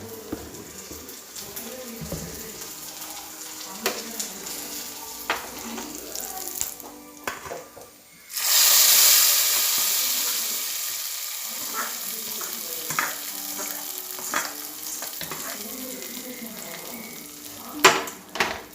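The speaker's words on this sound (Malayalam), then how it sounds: "നല്ലപോലെ ഉള്ളിയും കടുകും വെളിച്ചെണ്ണയൊക്കെ ഉണ്ട് നമുക്കിതൊന്ന് നല്ലപോലെ ഒന്ന് ഇളക്കി കൊടുക്കുക" Onion and mustard seeds sizzle steadily in hot coconut oil while being stirred, for a Kerala drumstick-leaf and jackfruit-seed curry, with a louder hissing burst partway through and occasional clinks of a spoon against the pan.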